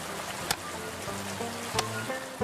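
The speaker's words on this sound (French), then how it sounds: "Vous voyez qu'il a fini par pleuvoir." Cartoon storm rain patters steadily on a surface, a soft continuous hiss broken by a few sharp drip-like clicks, with faint low tones underneath and no talking.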